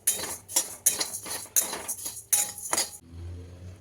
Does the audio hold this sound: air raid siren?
no